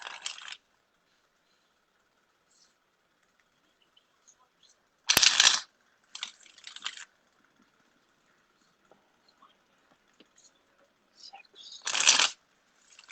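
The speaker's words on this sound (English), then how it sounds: "I'll just shuffle two more." Tarot cards are shuffled in a few brisk, close riffling bursts separated by quiet pauses, with faint background noise in between.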